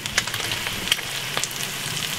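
Steady crackling sizzle of an egg frying crispy in a pan, close and fairly loud, with sharp pops scattered throughout.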